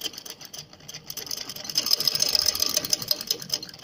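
Sewing machine stitching a shirt, a fast rhythmic mechanical chatter that starts quietly and builds into steady, close stitching over a few seconds.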